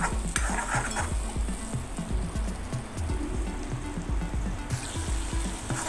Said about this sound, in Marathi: वाटण पण छान तेल सोडेपर्यंत तळून घ्यायचं।